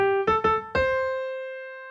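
Four quick piano notes, the first three struck close together and the last one held and left to ring out and fade, played alone.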